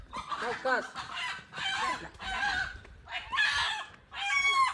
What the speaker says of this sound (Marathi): देशी कोंबडा पकडून आणलेला आहे